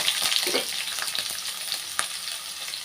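Onion, garlic, green chilli and cashews sizzle steadily in hot oil in a pan, with soft scattered clicks as a spatula stirs them.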